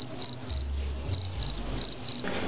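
Farmed house crickets chirp in a dense, continuous high trill, close and loud, stopping abruptly near the end.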